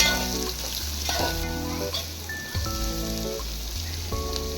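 Onions and ten green chillies frying in oil for a potato chicken curry, a loud continuous sizzle with repeated stirring strokes, some tonal scraping from the pan, no talking.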